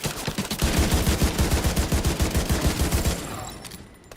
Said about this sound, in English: I think that's a machine gunner.